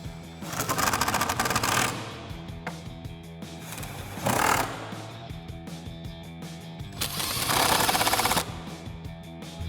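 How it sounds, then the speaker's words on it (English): An impact wrench with an 8mm socket and extension tightens bolts during a cold air intake install on a Sierra 1500, firing three rapid rattling bursts, the longest at the start and end, with a shorter one between. "we'll tighten it back down again with our 8mm socket and extension on our impact"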